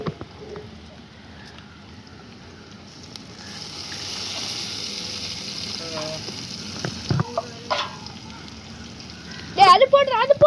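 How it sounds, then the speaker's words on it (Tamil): Ginger garlic paste frying in a pot over a firewood fire for biryani, a steady soft sizzle with stirring scrapes, louder bursts near the end, under occasional talk. "இப்போ அப்படியே இஞ்சி பூண்டு பேஸ்ட்டு."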